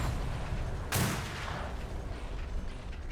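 Ship cannons firing a broadside in a naval roleplay game, a single loud booming blast standing out over constant noisy battle rumble.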